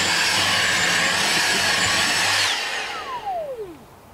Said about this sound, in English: So we'll try and get a vacuum, see how far we get.